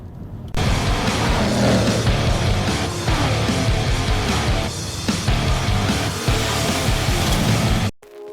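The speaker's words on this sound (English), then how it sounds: "I have found a small stretch of road and I'm going to do a driving evaluation of this Civic" Honda Civic RS e:HEV hybrid driving on a road, a steady broadband road and tyre roar heard from inside the cabin, continuous with slight dips, ending abruptly.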